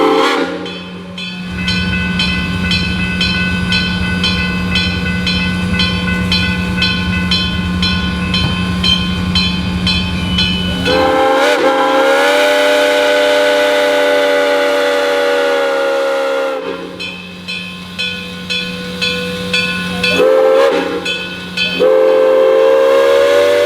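Great Smoky Mountains Railroad steam locomotive 1702 departs, its loud chime whistle sounding in long sustained blasts and then shorter repeated toots over a low rumble and hiss, close and strong throughout.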